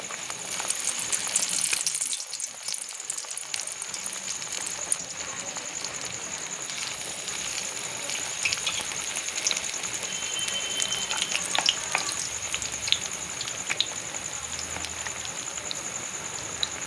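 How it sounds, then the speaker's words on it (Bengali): Battered eggplant fritters fry in hot oil in small batches, a dense, continuous crackling sizzle close up with scattered pops and occasional stirring, no voices. "অল্প অল্প করেই ভাজা হচ্ছে।"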